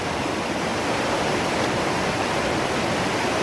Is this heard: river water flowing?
yes